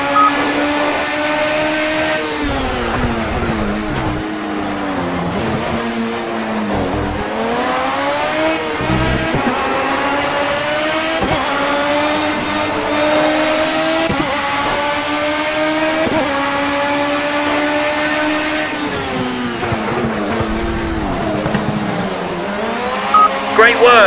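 A race car engine in Project CARS at Zolder drones loud and steady for the whole run, its revving pitch rising through the gears and dipping briefly at shifts, with faint tire noise beneath.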